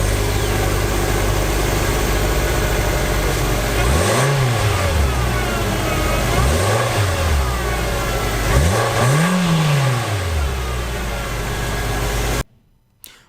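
The only engine offered in a 2017 Nissan Versa Note hatchback revs three times from idle, each rise swelling and falling back, loud and close over a steady running drone, with no talking, then cuts off abruptly.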